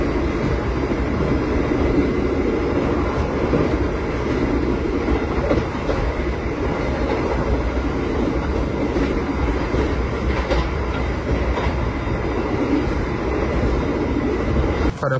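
A Gajayana executive passenger train running between Cirebon and Purwokerto in Indonesia, heard from inside the carriage at night: a loud, continuous rumbling roar with a steady rhythmic rattle of the wheels over the rails throughout.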